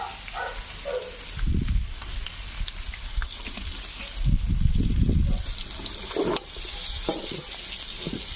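Water splashes and hisses into a hot pan of peppered chicken legs in a couple of surges, followed by steady sizzling and bubbling nearby.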